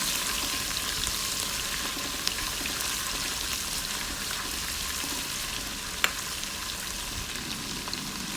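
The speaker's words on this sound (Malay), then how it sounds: "Goreng hingga naik bau." Steady, close sizzling of pounded spice paste frying in hot oil for beef curry, a continuous crackling hiss with a couple of sharper pops, no talking.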